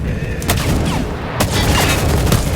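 Gunfire from a player's weapon in the extraction shooter Active Matter: a few sharp shots, at about 0.5, 1.4 and 2.3 seconds, crack over steady in-game ambience. No one speaks.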